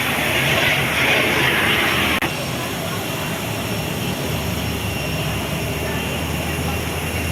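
A jet airplane taking off at Curaçao airport roars steadily in the distance, heard through glass, a broad continuous engine rumble and hiss with a faint murmur of voices beneath.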